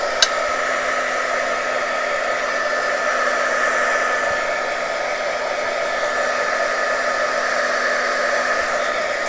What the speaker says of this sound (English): I'm going to go ahead and hit it with my heat gun